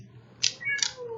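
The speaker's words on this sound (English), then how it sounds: "She has these little pitiful meows." A house cat gives two short, plaintive meows close by, asking to be let out through a door, with faint room hum between them.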